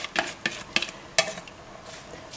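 A spoon stirs beef goulash with flour and water in a pot, heard as close rhythmic scrapes and clinks at about one per half second over a soft background, with no voices.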